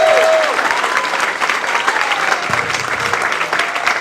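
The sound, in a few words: audience applause, standing ovation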